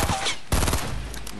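Fortnite gunfire: a loud rapid burst of automatic shots in the second half, with a noisy blast up front, heard close and alone.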